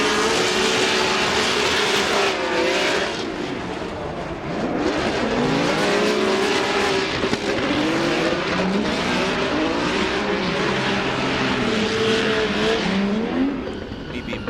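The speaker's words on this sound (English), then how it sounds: "Listen to this VR powered" VR-powered Nissan 370Z drift car at a championship event, its engine screaming and wavering in pitch as it revs through the run, heard at a distance over crowd and arena noise with a commentator talking.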